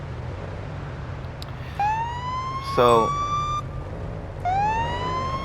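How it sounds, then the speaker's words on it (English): A police car siren in the Police Simulator: Patrol Officers game gives short rising wails and a quick yelp burst, standing out over a low engine rumble, with a brief spoken word near the start. "I'm gonna put on our sirens first"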